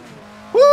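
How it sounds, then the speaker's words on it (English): Classic car engine in the racing game Assetto Corsa, quiet at first, then a sudden loud rev climbing sharply in pitch and holding high near the end. "I love the sound of these classic cars"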